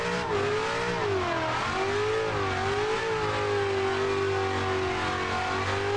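A racing car in Assetto Corsa, driven in third gear while drifting, revs and accelerates continuously, its engine note rising and falling steadily and loudly throughout, with no talk.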